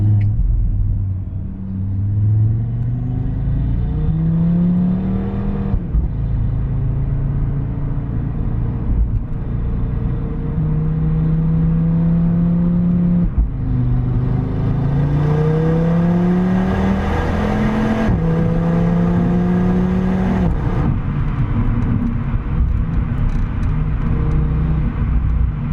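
Audi RS3 with its 294 kW five-cylinder engine pulls hard on the road, loud and close, revs climbing through several gears with brief dips at each shift over a steady rumbling drone.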